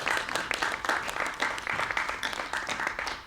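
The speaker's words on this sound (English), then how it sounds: "Can I please get a round of applause for Ada?" Lively clapping from a small audience at a podcast festival in Essex, distinct individual claps forming a brisk, close, moderately loud round of applause with no voices.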